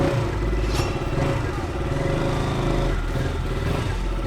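A KTM RC 200 motorcycle engine runs steadily at idle in a local garage right after servicing, loud and close, with a continuous throbbing rumble and light mechanical clatter.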